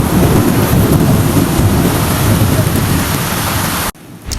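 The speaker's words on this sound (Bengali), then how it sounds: "বাইরে তাকিয়ে দেখি প্রচণ্ড বৃষ্টির ঝড় বইছে।" A heavy late-night rainstorm over Dhaka roars loud and dense, like a downpour pounding a balcony with low rumbling throughout, then cuts off abruptly near the end into near quiet.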